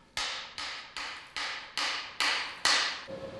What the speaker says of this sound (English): A hammer can then be used to remove the remaining shell